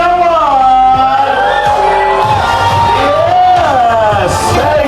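A crowd at a resort ball cheers and whoops loudly together, a dense wash of overlapping shouts and raised voices sustained throughout, with no distinct clapping standing out.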